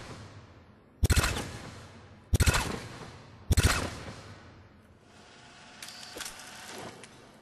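Hornet gun fired from the hip at targets in Mass Effect 3, three sharp burst-fire volleys about a second apart, each decaying into a clattering tail, then a quieter fourth burst, with no talk.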